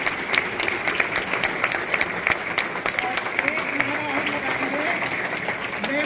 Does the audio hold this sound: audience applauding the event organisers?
yes